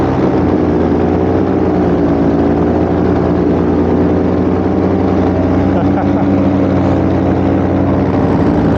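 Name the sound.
Polini Thor 303 paramotor engine running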